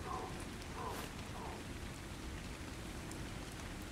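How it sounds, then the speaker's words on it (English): Steady rain falls through the dark night in the survival game ARK, a dense, even hiss that never breaks. It stays continuous across the whole stretch, with no clear voices over it. "I know it's raining."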